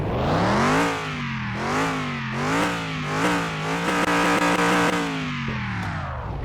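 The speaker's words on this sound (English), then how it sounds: "But listen to that V8." Ford Crown Vic V8 engine from the Car Mechanic Simulator 2021 game revving loudly and repeatedly, pitch rising and falling in several swells with no talk over it.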